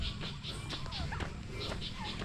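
A turkey gobbles near its home in the Philippines, giving short repeated gobbling bursts over a constant rough background din.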